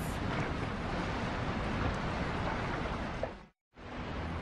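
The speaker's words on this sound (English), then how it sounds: "The storm surge tears into the sea floor." A storm surge with strong wind and churning waves fills the air with a loud, broad roar that stays constant, then cuts to a brief silence before resuming.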